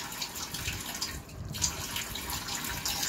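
Water poured into simmering chicken rezala gravy with cashew paste, a steady splashing trickle at moderate volume with a brief pause partway.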